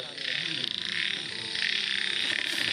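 Frogs croak in a dense, continuous chorus, many overlapping calls forming a steady loud throb with no break, the kind of mass croaking that fills the air when frogs swarm everywhere.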